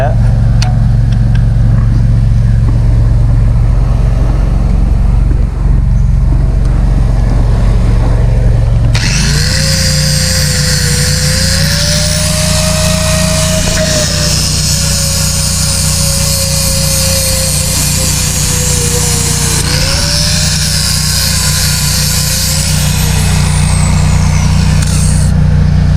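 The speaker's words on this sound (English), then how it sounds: "Have to grind a little more off of that." An angle grinder works metal on a gate under repair, starting abruptly and running as a loud, steady whine over a constant low background, its pitch dipping slightly as the disc bites, continuous to the end.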